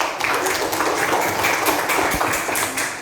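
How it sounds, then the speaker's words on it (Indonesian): Group of students clapping in a classroom, a brisk patter of overlapping hand claps at steady loudness throughout. "Yuk tepuk tangan lagi."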